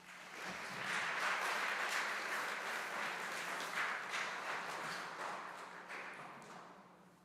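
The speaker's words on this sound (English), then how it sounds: "So please give these students a round of applause." An audience at a high school academic awards ceremony gives students a sustained round of applause, a dense wash of clapping that swells quickly, holds steady and fades near the end, heard at moderate distance.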